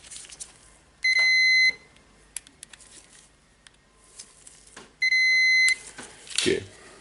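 A multimeter continuity tester gives two sustained electronic beeps, each lasting about half a second, separated by a few seconds of quiet handling clicks while an angle grinder switch is pressed.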